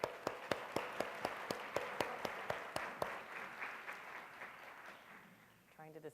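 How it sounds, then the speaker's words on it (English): Audience at a student success conference applauding: a run of evenly spaced, sharp claps over a softer clapping wash that fades, followed by a voice beginning to talk. "I do want to give a round of applause"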